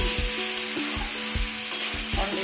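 Spiced meat sizzles in a pan while a spatula stirs it in a steady rhythm of scraping strokes roughly every half second, close and constant under the frying hiss.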